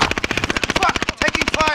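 Rapid automatic gunfire in a battle royale video game, a steady burst of dozens of sharp shots at close range, briefly pausing and resuming.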